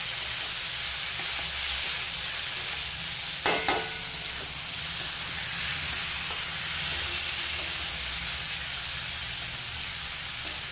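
Winter vegetables and dalia sizzle in a kadai, a steady broadband hiss of frying with a few clinks and scrapes of a stirring spoon midway, constant and close with no talk.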